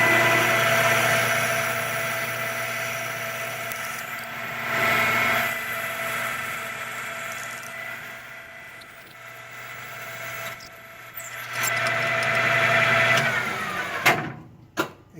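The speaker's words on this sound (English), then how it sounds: "So I'm going to go ahead and start drilling." A power drill bores steadily into a waterproof container, a continuous whining motor hum with slight changes in pitch and load, then stops and restarts in short bursts near the end.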